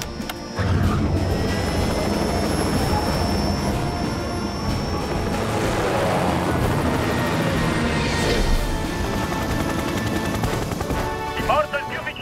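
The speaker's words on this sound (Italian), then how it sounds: "chi farà decollare l'elicottero di salvataggio?" A cartoon rescue helicopter starting up and lifting off, a continuous loud engine and rotor roar with a brief pitch-rising sweep near the end, under animated voices and music.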